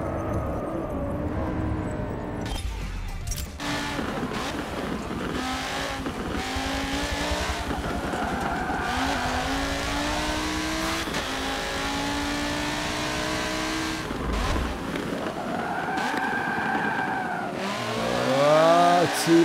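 A race car engine in Forza Motorsport 7 revs and accelerates through gears continuously, with rising and falling pitch sweeps, brief shifts and occasional tire squeal, loud and close throughout.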